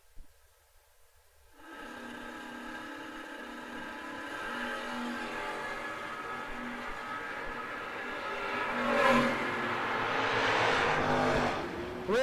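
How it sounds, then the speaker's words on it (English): Mopar drag racing car in lane 720 at a no-box drag race, with its engine roaring steadily and rising in pitch as it launches down the strip, heard from a distance for about ten seconds after a quiet start. "Now Clay Ricketson, left side in the Mopar 720."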